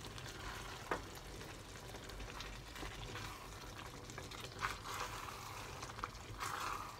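White beans and sausages simmering in a pan: a soft, steady sizzle and bubbling with occasional faint clicks and stirring sounds, quiet and continuous.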